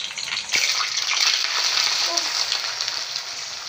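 Onion sizzling and frying in hot ghee for a home-style chicken karahi, a steady broadband crackle with a sharp hiss as the onion goes in, continuous and fairly close without talk.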